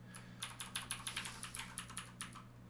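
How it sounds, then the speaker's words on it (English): Clanky computer keyboard being typed on, a run of sharp close key clicks in an uneven rapid rhythm over a low steady hum, with no talking. "You can admire the clankiness of my keyboard."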